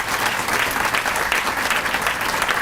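An audience at a chamber of commerce State of the City luncheon claps for the event sponsors, a full, even burst of applause filling the room without letup.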